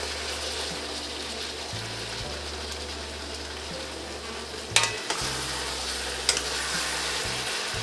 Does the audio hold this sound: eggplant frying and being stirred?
yes